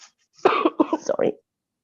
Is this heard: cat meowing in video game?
no